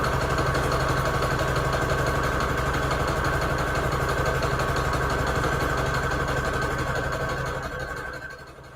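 A sewing machine stitches scraps of paper together, running in a steady, continuous motorized hum close by that carries on for several seconds before easing off at the end.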